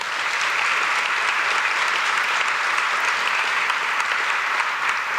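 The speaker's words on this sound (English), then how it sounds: "So give them a round of applause." Audience at a June 2017 Fort Walton Beach Chamber of Commerce morning coffee gathering applauding, a steady, dense wash of clapping that holds evenly for several seconds without voices.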